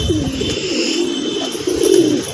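A wild pigeon held in the hand coos low and steadily, a close, continuous murmur that swells slightly toward the end.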